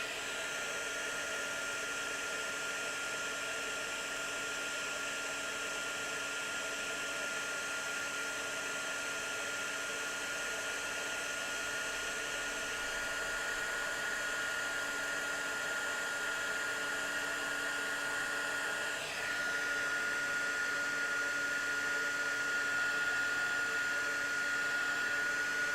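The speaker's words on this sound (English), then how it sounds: "And let's just heat set this." A handheld heat tool blows a steady, close whirring roar without a break while heat-setting gold embossing powder on a handmade Christmas card.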